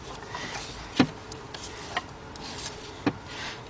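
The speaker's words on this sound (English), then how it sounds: "we're going to slowly take the bolt out" A wrench slowly backing out an alternator bolt on a BMW 528i, a few faint isolated ratchet ticks and clicks spaced about a second apart over a quiet, low rubbing background.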